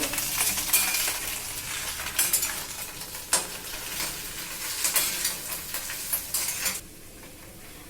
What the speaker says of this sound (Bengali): আমি এই যে পাতাটা যে ভাজা আধ ভাজার মতো করলাম